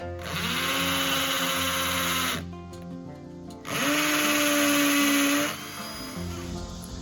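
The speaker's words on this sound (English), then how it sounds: "Now we're gonna drill these" A hammer drill bores holes for concrete screws during a log cabin porch build, two loud, sustained whining bursts separated by a brief pause, close to the microphone with no talk.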